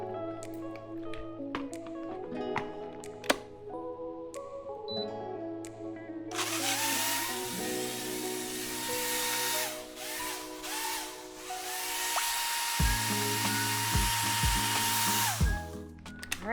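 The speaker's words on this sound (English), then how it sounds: "just to blend" A blender whirs through a ginger and frozen banana fruit smoothie, a loud continuous motor drone that shifts pitch as the speed changes, running alone with no talk.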